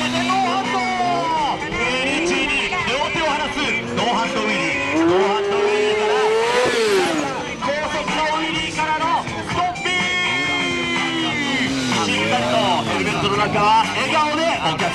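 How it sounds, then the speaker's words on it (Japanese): A motorcycle stunt rider in Japan slides his bike with skidding tires right beside spectators at a show, the engine revving and tires scrubbing continuously under loud announcer commentary. "そして木下慎介はスライディング、スライディングをお客様ギリギリでお送りしていく"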